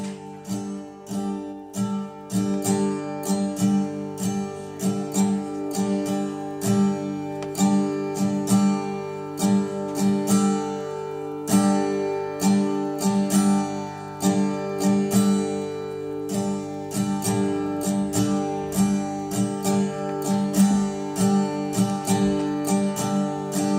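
An acoustic guitar is strummed loud and close, cycling through three strum patterns, about two bars each, with the rhythmic feel shifting between sections while the chords ring continuously. There is no talking.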